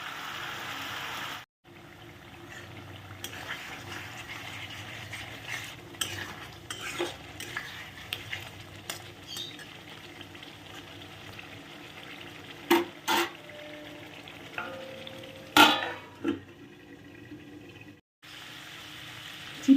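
Potatoes sauté with spices in a pan of oil as part of a chital fish dish. A steady low sizzle runs under repeated spatula scrapes and stirs, with a few sharp metallic clacks against the pan.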